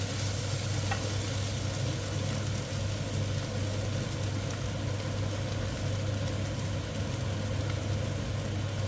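Chili paste with dried red and bird's eye chilies stir-frying in a pan, a loud continuous close sizzle with soft scraping stirs running unbroken, with no talking.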